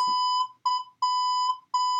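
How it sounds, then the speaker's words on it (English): A series of clean, steady electronic tones sounding as Morse code during an Unlock! Elite escape-room game: one short beep, then a pause and three longer beeps, loud and alone with no talk. "It's Morse code!"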